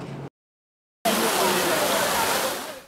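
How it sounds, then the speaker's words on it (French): Rainwater cascades down in a steady, hissing rush through a city neighbourhood. A short burst is followed by a silent gap, then the pour returns loud and continuous. "Ces eaux qui coulent en cascade ne sont pas celles d'une rivière, mais plutôt de la dame pluie."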